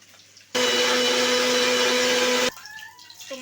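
An electric blender grinding tomato and Kashmiri chili to a fine paste runs loud and steady for about two seconds with a constant motor whine, then cuts off abruptly, leaving quiet kitchen clatter.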